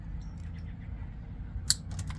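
Insulated copper wire snipped once by a cutting tool, a single sharp crisp snip near the end against a quiet low background rumble.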